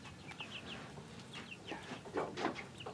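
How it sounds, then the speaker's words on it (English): Young chickens clucking and cheeping in short, high, repeated calls close by, over a soft outdoor background. "Larry let the little chickens out here in a bigger area this morning for the first time."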